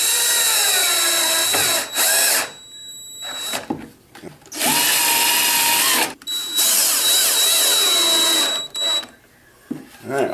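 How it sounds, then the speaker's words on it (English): A cordless power drill drives screws into a wooden drawer rail for a desk build, loud close whirring bursts that rise in pitch, separated by short pauses and clicks. "just start the hole, get my screw in there"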